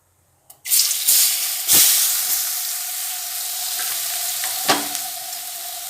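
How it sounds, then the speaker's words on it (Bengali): Chopped onions hitting hot oil with turmeric in a pan for a cauliflower roast, a loud burst of sizzling followed by steady frying with a few scraping stirs, close up and without talk. "এবার কুচিয়ে রাখা পেঁয়াজগুলো দিয়ে দেবো"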